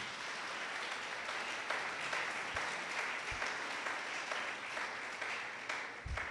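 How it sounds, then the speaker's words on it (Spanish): A church congregation gives sustained, even applause during a sermon, with broad, steady clapping and a few louder thumps. "dele un aplauso al Señor."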